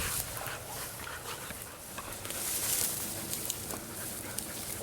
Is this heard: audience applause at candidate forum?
no